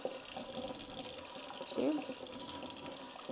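Water spooned into flaxseed meal for muffin batter, a gentle tap-like trickle under steady background hiss, with a person counting aloud in the clip.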